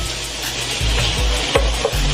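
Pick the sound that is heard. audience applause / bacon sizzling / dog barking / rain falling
bacon sizzling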